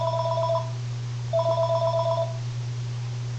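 A phone ringtone sounds twice, a short electronic trill followed by a longer one over a steady low hum, moderately loud and close, with no voices.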